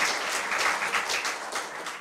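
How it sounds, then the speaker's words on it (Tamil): An audience at a Republic Day debate event gives a short burst of applause, a dense, even wash of many hands clapping that tapers slightly at the end. "ஒரு கைத்தட்டல் அங்கீகாரம் பண்ணு"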